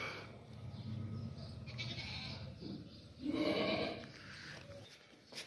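A large, high-quality purebred goat bleats several times in drawn-out, wavering calls, the loudest near the middle, close to the listener with faint background noise and no speech.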